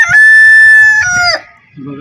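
A rooster crows loudly and close by on a rooftop coop, giving one long drawn-out call that breaks off at the end, followed by a short low cluck.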